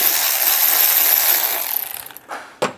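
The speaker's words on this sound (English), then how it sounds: "I'm gonna undo the first bolt" A ratchet clicks rapidly on a bolt of a Mercedes transmission oil pan, a loud close steady whirr that slows into spaced individual clicks before a final sharp knock.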